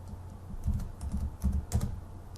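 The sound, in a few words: typing on a computer keyboard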